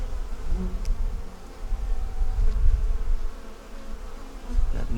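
Honeybees in an opened hive during an inspection, a dense, wavering buzz close by that swells and dips continuously, with faint handling knocks and no talk.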